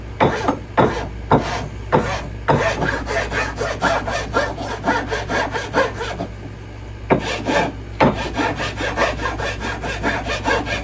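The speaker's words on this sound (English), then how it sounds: "one of these farriers rasp, smooth it a little more on one side, really rough on the other. You can take a lot of wood off." A farrier's rasp shaves wood from a replacement army shovel handle in steady, rhythmic scraping strokes, close and loud, with a brief pause partway through.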